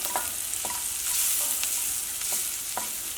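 Onions sautéing with a little turmeric powder in a pan, a steady close sizzle broken by several soft scraping stirs of the spatula, with no voices.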